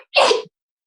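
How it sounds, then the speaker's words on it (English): A single short, sharp sneeze bursts out loudly, followed by silence. "someone sneezed, I think, and I said bless you"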